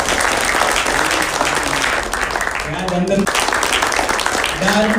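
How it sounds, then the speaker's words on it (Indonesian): A crowd at a Jakarta stage event applauds with steady, full clapping throughout while a host keeps speaking over it. "tepuk tangan yang paling meriah untuk Anda semua yang bisa hadir di acara kita hari ini."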